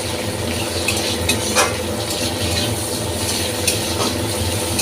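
Onions and a bay leaf fry in hot oil in a pan for fish-head dal, giving a continuous close sizzle broken by scraping stirs of a spatula, no voices.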